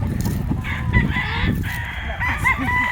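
Fighting cocks on a farm crow and cluck nearby, with several birds overlapping in a busy chorus of crows and short clucks.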